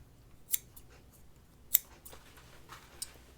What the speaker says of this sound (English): I like to use the base of my scissors as where I clip